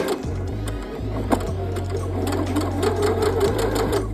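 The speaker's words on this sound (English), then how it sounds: "we're just gonna stitch all the way down" A sewing machine stitches straight down a double-sided dart in denim, its motor humming in a close, even, rhythmic drone with brief pauses and restarts.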